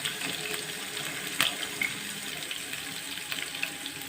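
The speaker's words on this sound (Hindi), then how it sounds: "मैं यखनी डालने लगी हूँ, आप देख सकते हैं।" Yakhni broth pours into a pot of Kabuli pilao, a soft continuous liquid splashing and trickling, fairly quiet, with a couple of small clinks.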